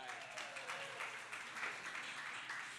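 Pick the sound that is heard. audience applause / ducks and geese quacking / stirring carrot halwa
audience applause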